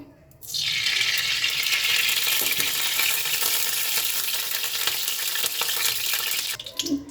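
Oil heating in a wok gives a loud, sustained broadband hiss that starts abruptly, holds steady for several seconds and then cuts off, with faint rattles underneath and no voices.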